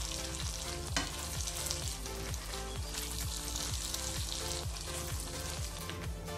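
Papaya caramelizing in oil in a pan while being stirred for homemade papaya oil, a dense continuous crackling fry with rhythmic stirring scrapes, no voices.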